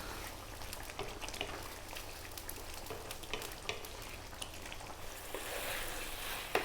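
Lamb curry masala frying in a pan with the lid off on high heat, a steady quiet sizzle with small crackles and pops throughout.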